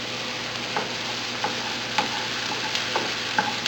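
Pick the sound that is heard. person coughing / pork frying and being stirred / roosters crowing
pork frying and being stirred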